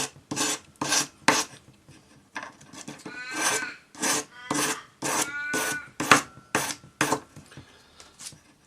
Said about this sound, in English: Then follow that with 400 grade paper on your sanding stick.